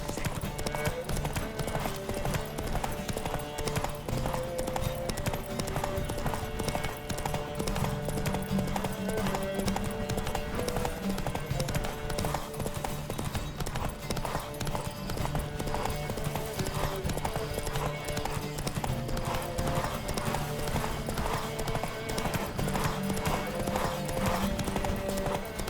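Horses gallop in a race in the video game The Witcher 3, with steady, dense clip-clop hoofbeats running unbroken and fairly close for the whole stretch.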